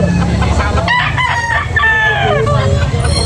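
A Black McRae gamefowl rooster from India crows loudly and close at an outdoor sale, its wavering calls mixed with clucking over a background murmur.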